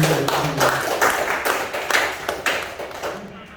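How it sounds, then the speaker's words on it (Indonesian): A classroom-style audience claps at a community health nursing presentation, a dense patter of many hands with uneven, overlapping slaps and a few louder accents, steady and fairly close before tailing off at the end. "Luar biasa, tepuk tangan."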